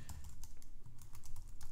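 Typing on a computer keyboard: a quick irregular run of light clicky keystrokes, close and clear, with no voices over it.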